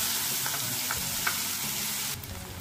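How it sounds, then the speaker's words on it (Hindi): Chopped onion sizzles steadily in hot oil with asafoetida in a pan, a continuous close frying hiss with a few faint stirring scrapes, no voices. "प्याज को हम 1 मिनट तक फ्राई करेंगे"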